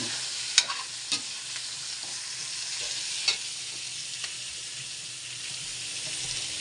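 Pork steak sizzles steadily in a pan while being stirred, with a continuous soft frying hiss broken by a few light scraping knocks of the utensil against the pan.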